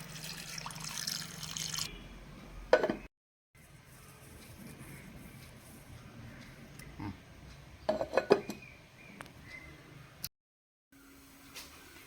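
Water poured into a cooking pot of dried shrimp and jackfruit seed curry with chilli powder, turmeric and salt: a short close pour and splash, then clinks of metal cookware and scattered drips, with brief quiet gaps.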